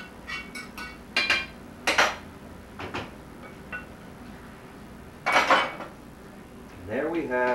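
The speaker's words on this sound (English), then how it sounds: "now we take our marinara sauce, which we had made before, and we put that in." Metal utensils clink against pots and a pan in bursts while homemade marinara goes into the pan for shrimp cacciatore, with several sharp clatters spread across the clip and a brief voice near the end.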